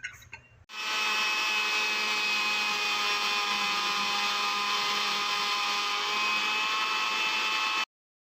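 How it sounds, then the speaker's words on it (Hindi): An electric blender grinding a banana smoothie runs as one steady, loud whir after a brief start, then stops abruptly near the end. "इसको जो है ग्राइंड करूँगी।"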